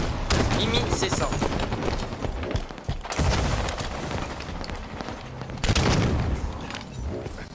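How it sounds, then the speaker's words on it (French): Rapid gunfire bursts and automatic weapon fire from the Halo 5 video game, loud and continuous, with a player talking over the shooting. "On me tire dessus."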